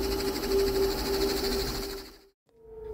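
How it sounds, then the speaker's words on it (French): A ship's noise recorded underwater: a dense, steady rumble with a strong droning tone and pulsing hum. It cuts off briefly to silence and then returns. "Voici le bruit d'un navire sous l'eau."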